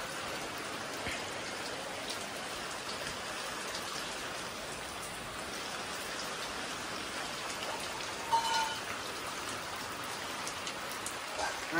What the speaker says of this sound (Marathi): 2 मिनिटात तर पावसानं पूर्ण आतंक केला.